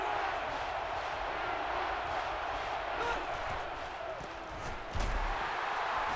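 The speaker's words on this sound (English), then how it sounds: "Really a factor with the crowd noise here." Dense stadium crowd roar from the NCAA Football 13 video game, USC versus Oregon, a steady wash of distant cheering that holds throughout with slight swells and a brief low thump near the end.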